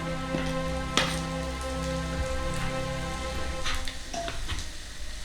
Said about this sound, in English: pop your bacon in with your onions to fry off